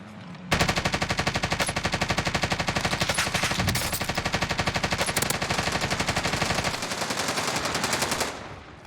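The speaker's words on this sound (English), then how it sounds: "Shoot at him!" Sustained automatic gunfire in Call of Duty Warzone video game, a long, loud, evenly paced stream of rapid shots lasting about eight seconds before cutting off.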